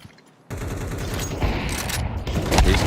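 Rapid bursts of gunfire from a Rainbow Six Siege esports match, loud, close and nearly continuous, with overlapping shots and a couple of heavier booms, breaking in suddenly after a brief quiet start.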